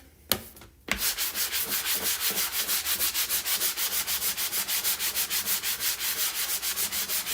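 Steady rhythmic rasping of sandpaper rubbed back and forth by hand, close and even, after a couple of brief knocks at the start.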